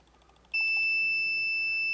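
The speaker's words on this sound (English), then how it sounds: "we get a very nice sound saying I tried too many times. And this actually activates all the alarms." A CCTV system's alarm triggered by too many failed password logins: a sudden loud, steady electronic tone that starts abruptly and holds continuously, with no talking.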